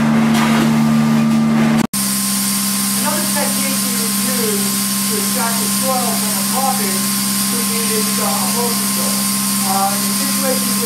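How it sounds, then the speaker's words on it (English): A carpet extraction cleaning machine works over an oriental area rug, giving a loud, steady motor whine with a constant hum throughout; after a brief break near the start, a voice talks over the continuous drone. "This is a typical kind of extraction that one can use in cleaning carpets wall to wall and also area."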